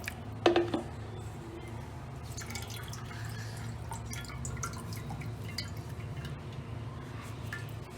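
Tap water drips while fresh paneer for rasgulla is rinsed. A short cluster of drips lands near the start, then a faint, steady watery trickle and low hum continue.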